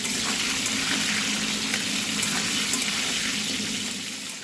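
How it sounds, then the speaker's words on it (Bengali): Steady, loud sizzling hiss of pointed gourd and potatoes frying in hot oil in two pans, continuous and close, with no talking. "একদিকে পটল ভাজা হচ্ছে একদিকে আলু ভাজা হচ্ছে"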